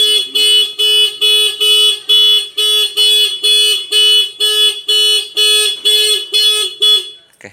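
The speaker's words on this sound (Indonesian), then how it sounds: "5 detik sensor nggak disentuh, alarm berbunyi dan motor tidak jalan" A WDA Protection anti-theft alarm on a Honda CBR 150 motorcycle: loud, piercing, repeated electronic beeps in a steady on-off pulse, about a dozen bursts, close by and with no talk.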